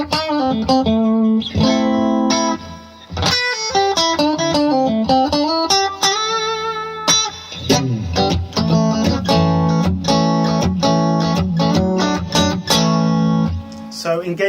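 Electric guitar played through the clean channel of a BluGuitar AMP1 amplifier, with chords and single-note runs ringing out loud and bright, sustained and continuous for the whole passage, with no talking.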